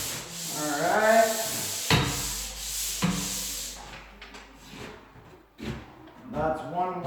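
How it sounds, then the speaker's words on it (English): An electric sander works across an indoor wall, making a rough, continuous rubbing drone that stops and starts, with a person talking over parts of it. "I'm going to bring my electric sander in here and sand like crazy."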